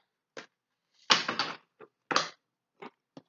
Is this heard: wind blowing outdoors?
no